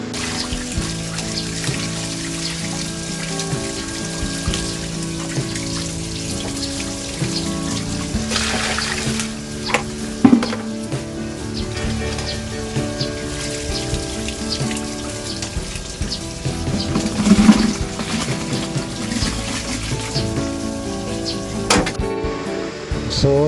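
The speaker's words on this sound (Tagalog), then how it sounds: "At ngayon naman ay linisin ko muna itong mga tilapia dahil napakadumi ng tubig." Running water pours steadily while tilapia fish are washed by hand, with continuous splashing and trickling and a few louder knocks and sloshes from handling the fish in a basin.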